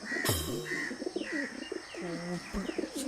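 Soft, rolling pigeon coos repeat in short phrases, with a sharper flutter or thump near the start and faint chirps behind.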